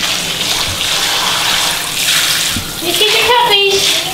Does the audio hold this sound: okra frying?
no